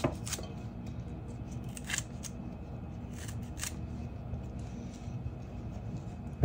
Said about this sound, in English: We're just going to snip on down.